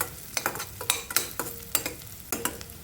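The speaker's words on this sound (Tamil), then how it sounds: "இப்போ கொஞ்சம் கருவேப்பிலை சேர்த்துக்கோங்க. சேர்த்துட்டு எல்லாத்தையுமே ஒரு 5 நிமிடம் வதக்குங்க." Onions and curry leaves sautéing in a pan for Tamil tomato curry, with a steady sizzle broken by repeated sharp scraping stirs of a spatula at a brisk, uneven rhythm, close and clear with no talking.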